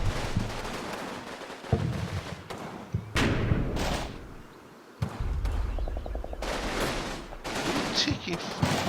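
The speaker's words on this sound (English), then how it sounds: "Taking fire over here." Gunfire and thudding explosions from the Combat Mission wargame, a German meeting engagement, with repeated loud bursts, a rapid rattling volley and heavy impacts, some close and some farther off, under intermittent talk.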